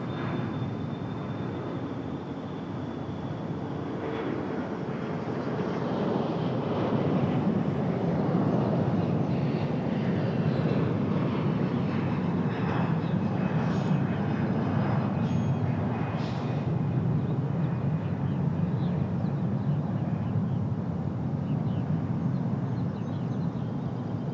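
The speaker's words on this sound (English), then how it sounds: "Delta CRJ leaving right now." Delta CRJ regional jet departing Raleigh-Durham International, a broad steady engine roar that swells after the first few seconds and holds at a loud, even level, with faint higher whines above the rumble.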